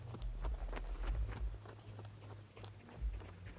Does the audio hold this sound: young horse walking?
yes